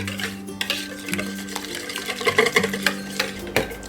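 Eggs and cream cheese being mixed in a mixing bowl with vegetable salt and onion powder for keto zucchini pancakes, soft scraping and stirring with a few utensil knocks against the bowl, close and fairly quiet.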